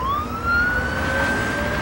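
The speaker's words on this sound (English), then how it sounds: "By the time the ambulance made it the 8 miles to the nearest hospital" An emergency siren wails close by, its rising tone sweeping up and then holding over the low rumble of a moving vehicle.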